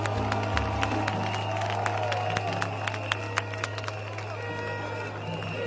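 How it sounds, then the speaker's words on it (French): A large crowd at a political rally cheers and claps steadily throughout, a dense roar of applause with scattered sharp hand claps, loud and close, with a low steady hum underneath. "Et je demande qu'on les acclame, qu'on acclame notre jeunesse ivoirienne talentueuse."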